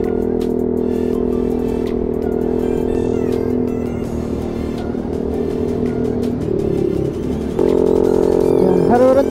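A Honda Click scooter with an aftermarket Akrapovic exhaust idles and then revs up, its raspy exhaust note rising near the end, loud and close.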